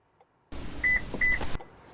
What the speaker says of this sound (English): Vehicle beeped twice,